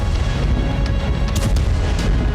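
Explosions in war footage: a dense, continuous barrage of loud, overlapping blasts and rumbling booms with sharp cracks scattered through, heard with no talking.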